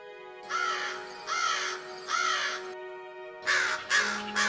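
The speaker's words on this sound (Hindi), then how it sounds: "फेंकते ही उसके आसपास कौवे मंडराने लगते हैं।" Crows caw loudly and close, three long harsh calls in a row, then two quicker caws after a brief pause.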